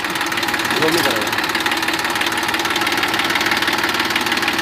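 A Massey Ferguson 241 DI tractor with a 41 HP engine and five-speed gearbox runs at a loud, steady, knocking diesel idle close by, with someone talking over it.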